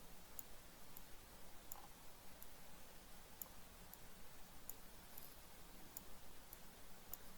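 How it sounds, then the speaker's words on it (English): Computer mouse clicking in pairs of faint, sharp ticks at fairly regular intervals during a digital drawing session in Photoshop, set over a low steady room hiss with no talking. "My mouse is double clicking"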